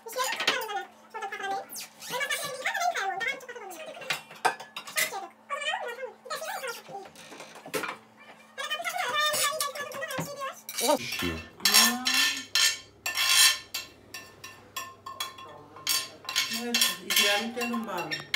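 Dishes are washed in a mother-in-law's kitchen: cutlery and plates clink and clatter in quick bursts, mostly in the second half, while people chat throughout.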